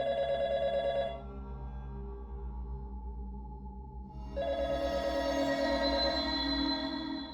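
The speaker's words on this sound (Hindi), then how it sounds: "फोन बज रहा है" A telephone rings loudly in a domestic drama scene, two long electronic ring tones separated by a short quiet gap, heard alone without talk.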